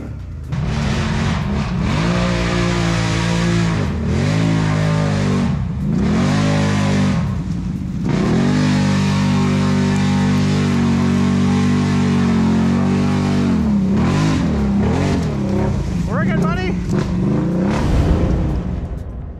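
A Can-Am Renegade 1000 ATV engine revs hard off-road, its loud, close roar rising and falling through repeated throttle bursts, dips and surges that continue steadily without any voices.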